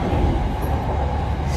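Riding inside a moving Bangkok metro train, a steady, moderately loud low rumble and hum of the carriage throughout, no talking.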